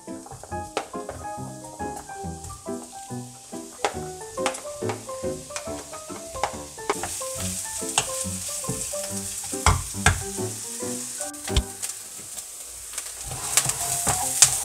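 Chopped onion frying in olive oil for a lasagna sauce, a continuous close sizzle with frequent scraping and stirring clicks throughout, no voices.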